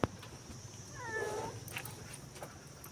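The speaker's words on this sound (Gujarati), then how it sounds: "જો બિલાડી બેન અહીં બેસી ગયા છે" A cat on a farm gives a single short, faint meow at middle distance, a soft rising-and-falling call amid quiet outdoor background noise, preceded by a brief sharp knock.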